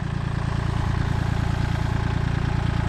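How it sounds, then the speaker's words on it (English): A small tractor engine runs steadily at a close, even idle-like chug, a continuous low rhythmic throb on a hot farm during hay bale hauling, with no talking. "we got to use the little tractor to pull them up"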